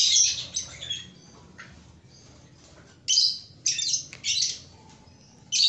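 Lovebirds in a covered aviary of caged breeding pairs give harsh, high squawks and chirps in several loud bursts with pauses between, close to the listener, with no talking.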